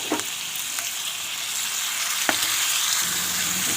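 Chopped tomato and salt are stirred into a sizzling village-style prawn curry gravy in a pan, with a steady close frying hiss and a few soft scrapes of the spoon, without any talking.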